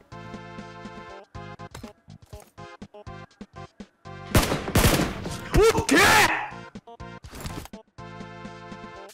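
Sharp gunfire bursts in the mobile battle royale game PUBG Mobile, a dense cluster of loud shots mid-way amid game sound effects, with someone talking excitedly around them.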